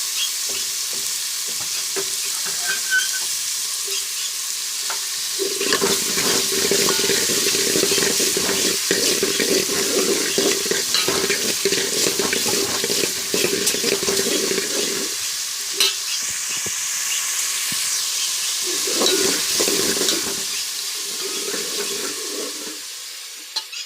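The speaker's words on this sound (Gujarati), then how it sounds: "તળવા દેવાની ડુંગળી" Onions frying in a pan in a home kitchen, a loud steady sizzle that swells and fades with intermittent stirring scrapes and clatter, alone with no talk, a brief pause midway before the crackle resumes.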